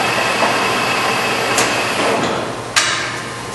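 A used Whacheon HL-460 engine lathe runs at 395 RPM. It gives a loud, steady mechanical hum with a faint high whine, broken by a couple of brief clicks.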